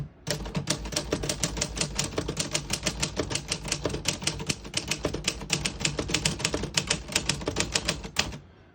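Rapid, steady keystrokes clack on a 1953 Remington Office-Riter portable typewriter, typing a line in red ribbon, with dense even strikes throughout and no talking.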